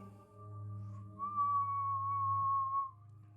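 A voice imitates a whistling tea kettle left on the stove: a sustained, steady high whistle holding for a couple of seconds, fairly quiet and alone, with no other sounds around it.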